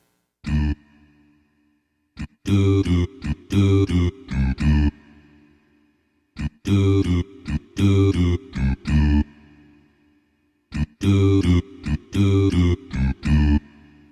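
Punchy synthesizer stabs from a Yamaha MODX keyboard in short rhythmic phrases, repeated three times with silent gaps between, bright and close.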